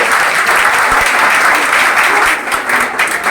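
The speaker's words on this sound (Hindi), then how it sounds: "एक बार जोरदार ताली मदन सर के लिए।" Students in Begusarai clap loudly for their teacher at a celebration of their CTET exam success, a dense burst of close applause lasting about three seconds that thins slightly near the end.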